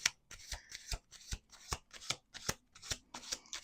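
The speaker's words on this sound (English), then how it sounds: "We're going to do 2 more shuffles." Tarot cards being shuffled up close, a steady series of crisp riffling bursts and soft slaps repeating rhythmically, with no voices.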